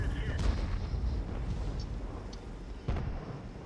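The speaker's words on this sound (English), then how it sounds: "Put a shot at him real quick." Tank cannon fire in an online tank battle game rumbles as a deep, continuous boom with a couple of sharper blasts, loud and heavy throughout, with no clear talking over it.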